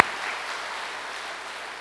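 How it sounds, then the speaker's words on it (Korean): A large gathering of about 350 people in a church hall applauding, a broad wash of clapping that starts sharply and fades gradually over two seconds. "우리 기적을 일으키신 우리 식구들 스스로를 위해 감사의 박수를 한번 보내주시면"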